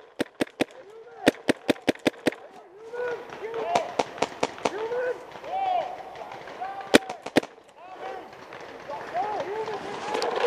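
Sharp, rapid pops from guns fired in an outdoor shooting game, several quick bursts of close shots in a row, then scattered single cracks, with people talking and calling out in between.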